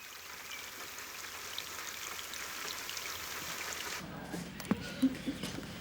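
Rain falls in the Amazonian marshes as a steady, broad hiss of drops, then shifts to a closer, softer patter on a surface with a few brief knocks and splashes.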